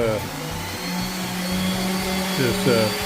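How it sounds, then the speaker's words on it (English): A paint sprayer air compressor runs with a steady motor hum that holds for about three seconds, rising in pitch slightly near the end, with voices faintly under it. "paint sprayer, compressor, I guess you call it"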